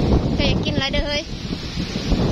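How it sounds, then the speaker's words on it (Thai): Strong storm wind gusting straight into the microphone outdoors in the forest, a loud rumbling buffet with a brief voice rising partway through. "ว้าเสียงลมก็ว่าเสียงลมพี่น้องเอ้ย พายุลม"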